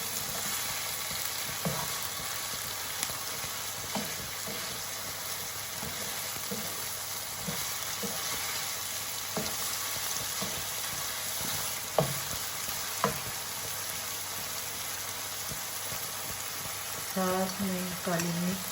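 Macaroni with chicken, vegetables and dried mixed herbs frying in a pan, a steady sizzle throughout with occasional spoon scrapes and knocks as it is stirred, and a brief clatter near the end.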